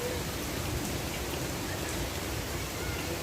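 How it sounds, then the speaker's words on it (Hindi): Light rain falling after a storm, a steady soft hiss of drops with no distinct individual hits and no voices. "तो अभी बारिश ख़त्म हो गई है, ख़त्म तो नहीं हुई है, मतलब हल्की हो गई है।"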